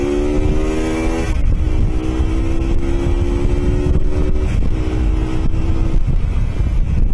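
A Mondial Rx3i Evo motorcycle engine revs up and pulls loudly, its pitch climbing through a couple of gear changes. Heavy wind buffeting from riding at speed covers the whole stretch.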